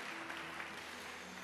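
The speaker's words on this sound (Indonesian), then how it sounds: "Ayo tepuk tangan yang paling meriah bagi Yesus kita." Brief, dense applause from a church congregation for Jesus, a steady wash of clapping heard from a distance in a large hall.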